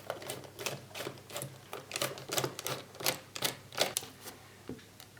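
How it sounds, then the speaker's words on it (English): Quick, light clicking and ratcheting from a tool undoing three screws on old plastic trim of a BMW E90, close and quiet, in irregular bursts of short taps. "So there are 3 screws here in the back. So let me just undo these."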